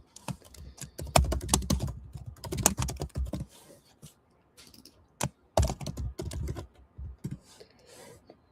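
Rapid typing on a computer keyboard, heard up close as dense bursts of clicky keystrokes broken by short pauses, alone without talk.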